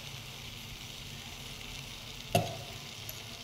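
A paste of dates and raisins fries in ghee in a wok, a steady soft sizzling hiss that runs throughout, broken by one sharp clunk of a utensil near the end.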